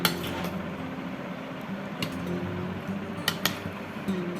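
A spoon scraping and clinking against a bowl while ripe mango mash is mixed, with steady soft stirring and a few sharper utensil clicks, close and fairly quiet, no voices.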